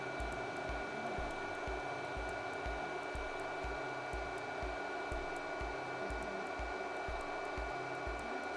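A torch heats a stuck brake caliper nut soaked in penetrating oil, giving a steady close roaring hiss with faint rhythmic low pulses underneath and no voices.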